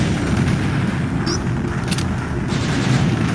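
Gunfire and blasts at an enemy in the video game Panzer Dragoon Saga, in the Northern Ruins: muffled shots and booms over a dense, steady game soundscape.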